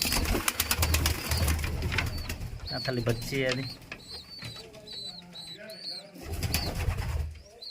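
Pigeons coo and flutter close by while a person talks over them, with a steady background hum.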